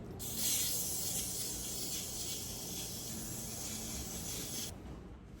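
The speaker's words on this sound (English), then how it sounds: "So we are just gonna do a quick spray down." A steady, sustained hiss of a disinfectant spray bottle misting for about four and a half seconds, close and fairly quiet, then it stops.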